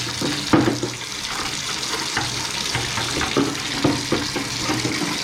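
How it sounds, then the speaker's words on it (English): Hot water runs steadily from a tap into a sink in a steady, close hiss, with a few clinks and knocks of dishes being handled partway through. "now we're just gonna get some hot water going"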